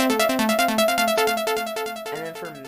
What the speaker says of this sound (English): made like this really nice pluck melody